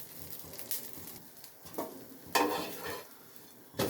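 Urad dal dosa cooking on a hot pan, a soft sizzle and frying hiss with a few brief scraping and stirring clatters, close and moderately quiet, no voices.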